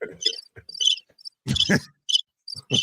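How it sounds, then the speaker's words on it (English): Bright, high-pitched cricket chirps come in short repeated bursts, interspersed with brief low vocal sounds and pauses of silence. "Give them the crickets."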